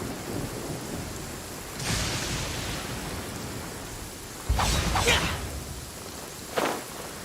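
Steady rain hisses throughout while rumbles of thunder roll in, a couple of louder cracks standing out over the downpour, in the video game Genshin Impact.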